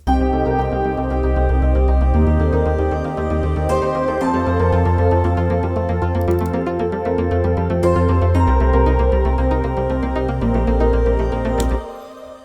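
Dense layered music with sustained low pads and rich harmonic textures, steady and loud throughout, ending with a brief drop near the close.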